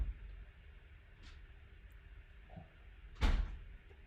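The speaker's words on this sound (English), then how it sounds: "son's playing with the door upstairs" A child is playing with a door upstairs, giving a faint knock and then a sharper thud or bang heard at a distance over quiet room noise.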